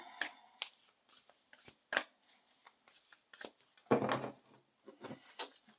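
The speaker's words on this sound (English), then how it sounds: "I'm trying to be more conscientious about my shuffling" Oracle cards, a Spirit Animal Oracle deck, being shuffled by hand in a string of quick papery riffles and soft slaps, with one louder burst near the end and nobody talking.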